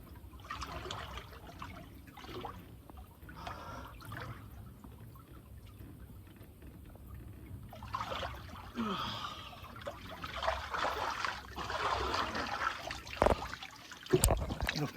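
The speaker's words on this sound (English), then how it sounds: "Oh, that's a water feature." A garden water feature at a fish pond trickles softly and steadily, with scattered splashes, faint breathing and handling noises around it.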